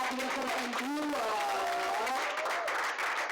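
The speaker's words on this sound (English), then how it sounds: "everybody keep clapping out there" An audience claps at an open mic night, a continuous patter of applause running underneath as someone speaks loudly over it for the whole few seconds.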